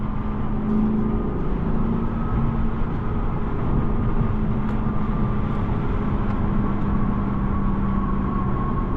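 A 2016 Lexus GS F's V8 heard from inside while cruising, a steady low droning rumble that holds even and continuous, with road noise underneath and no talking.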